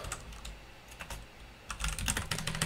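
Fingers type R code on a computer keyboard in a quiet room. The soft, close key clicks come in irregular runs, with a brief pause before a denser, louder flurry of taps.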